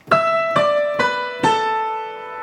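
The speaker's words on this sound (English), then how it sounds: "the sustain pedal down, it sounds like this." Four piano octave chords struck in succession, each ringing on and overlapping as the sustain pedal holds them, with no other sounds present.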